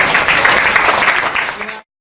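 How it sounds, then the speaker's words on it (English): Audience round of applause for a woman at a training talk, dense steady clapping from a crowd that cuts off abruptly after under two seconds. "let's give her a round of applause, ladies and gentlemen."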